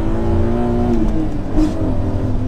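A modified BMW Z3 M accelerates hard, its engine a loud, steady, close-up roar that holds strong throughout, with a slight surge partway through.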